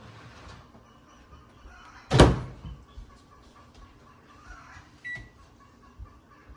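A faulty microwave oven that stopped cooking food fully after its defrost mode was used runs with a steady low hum, broken by one loud sharp burst partway through and a few smaller uneven bumps, with no talking.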